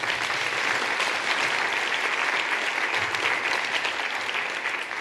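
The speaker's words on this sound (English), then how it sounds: "I think that deserves a round of applause." A large conference audience gives a dense, sustained round of applause that fills the room evenly throughout, a continuous wash of many hands with no voices standing out.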